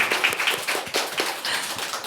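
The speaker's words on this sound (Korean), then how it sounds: "큰 박수 한번 주세요." Audience at a book concert with a radio-show format applauds for a poet after a reading. Steady, dense clapping carries on throughout, moderately loud and close, with no talking.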